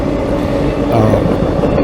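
A CSX M210 freight train rolling past on the track, a steady, loud, close rumble of wheels and cars with no break.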